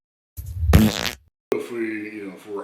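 A loud, close fart, a short blast with a buzzy rasp, followed after a brief silence by a voice speaking.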